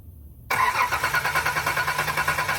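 A 1984 Nissan 300ZX Z31, left sitting for ten years, cranks over after a brief quiet lead-in, its engine catching with a steady pulsing chug close by and no talk.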